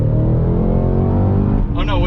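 Engine of a 2022 Cadillac CT5-V Blackwing with a manual gearbox, a loud steady drone that dips briefly as a gear is shifted, then pulls on again; a voice talks over it from inside the car.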